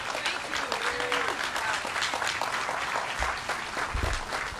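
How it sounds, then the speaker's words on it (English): An audience at an outdoor groundbreaking for an affordable housing project applauds for the mayor of the District of Columbia, a moderately loud clapping wash with low thumps and faint voices mixed in. "give a great round of applause to the Mayor of the District of Columbia, Mayor Muriel Bowser"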